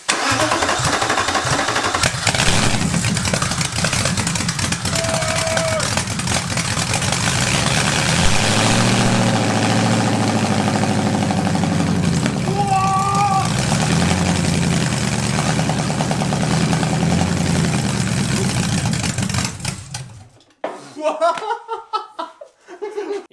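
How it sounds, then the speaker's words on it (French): A V8 engine meant for a GT40 replica, not run for about two years, cranks, fires and runs at a loud steady idle for around twenty seconds, then cuts off, with people talking and laughing after it stops. "Ça fait quand même un peu, peut-être 2 ans qu'il a pas démarré ce moteur"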